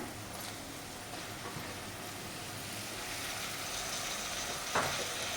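Chopped tomatoes tipped into a pan of frying onion tempering for misal, a steady soft sizzle running alone throughout with a brief clatter near the end.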